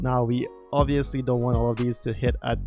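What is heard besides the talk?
No everyday noises stand out.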